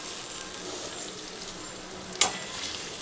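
Fish fries in a pan with crushed garlic just added, a soft, steady sizzle broken by one quick sharp scrape or clink partway through, close and fairly quiet.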